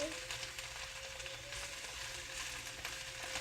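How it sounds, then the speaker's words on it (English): A soft, continuous sizzle of radicchio sauteing in a pan, steady crackling with no talking. "We're sauteing this until it's wilted."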